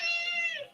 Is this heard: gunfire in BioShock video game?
no